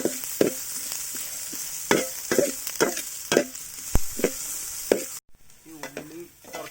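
Shallots sautéing in a pan for Kanthari chicken, a soft sizzle under a run of crisp, irregular spoon scrapes and clacks against the pan, with a brief quieter stretch near the end.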